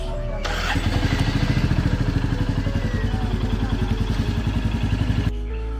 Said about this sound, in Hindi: मारते हैं बाइक को सेल्फ और फिर निकलते हैं इस मज़ेदार बाइक राइड पर